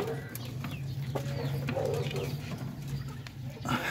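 Native Parawakan chickens on a farm make soft clucks and coos at a moderate distance over a low steady background hum.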